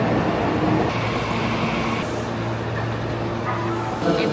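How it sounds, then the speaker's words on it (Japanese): A broad, steady rumble of a train at a station in Japan fills the scene, with low mechanical hum and faint background voices. "今電車待ってます"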